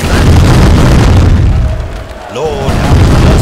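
Broadside cannon blasts roll through a British-versus-pirates sea battle in the game East India Company, heavy low booms sustained over several seconds with a brief dip midway before the rumble returns.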